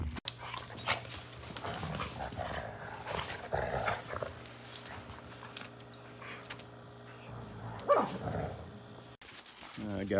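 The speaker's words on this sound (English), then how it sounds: "I gotta bring these dogs outside now." Dogs indoors bark and pant off and on at moderate distance, mixed with rustling movement and a person talking now and then across ten seconds.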